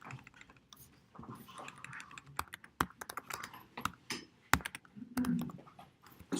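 Keystrokes on a computer keyboard as a conda environment command is entered, a sparse run of close, sharp clicks and taps with short pauses between bursts in a quiet room.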